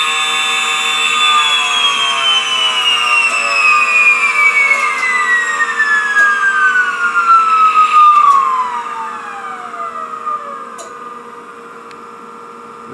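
A small electric motor spins at around 50,000 RPM, giving a loud, high-pitched whine that slowly glides downward in pitch as the motor slows, over a steady electrical hum, then settles into a quieter steady drone.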